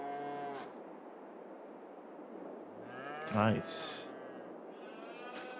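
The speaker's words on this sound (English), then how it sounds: "Cows are looking good" Cattle on a farm in Farming Simulator 22 give one clear, drawn-out moo midway, set against steady farm ambience, with a brief spoken word from a player.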